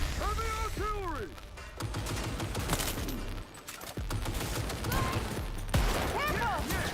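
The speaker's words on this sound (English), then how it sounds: "Heavy artillery!" Heavy automatic gunfire and artillery blasts from the video game Cyberpunk 2077 roar in dense, continuous bursts with sharp impacts, while excited voices call out over the barrage.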